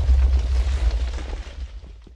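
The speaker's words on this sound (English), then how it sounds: "It finished exploding." A Minecraft explosion booms heavily in the bass, a loud, rolling rumble that holds for about two seconds before fading out.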